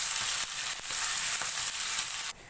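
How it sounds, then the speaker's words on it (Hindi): Garlic ginger paste fries in a hot pan for a beef kofta curry, giving a close, steady sizzle with no talk. The sizzle drops away near the end. "अब हम इसके अंदर 1½ टेबल स्पून लहसुन अदरक का पेस्ट ऐड करेंगे, थोड़ा सा फ्राई करेंगे।"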